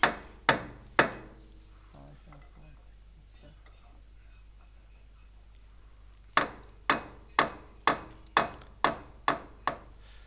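Pin driven into the lift cylinder of a 2021 JCB 411HT, struck by sharp metallic hammer blows: three early hits, a quiet gap with faint background talk, then a steady run of about eight close, ringing strikes.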